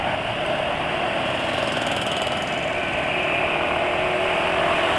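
Suzuki Satria motorcycle engine held at high revs, a loud, steady, buzzing drone that stays constant and doesn't climb, heard up close without voices.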